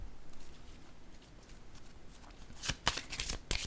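Tarot cards are handled and laid down, with soft shuffling and papery rustles that build into a few sharper slaps of cards placed on a surface, fairly close and quiet, with no speech.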